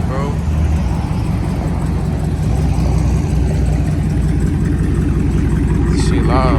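Loud exhaust of a Dodge Scat Pack running close by, a deep steady rumble throughout with a voice talking over it.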